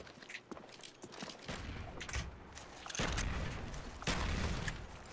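Gunfire in the video game Call of Duty Black Ops: faint bursts of shots and thuds, sparse at first, then two heavier, louder volleys toward the end.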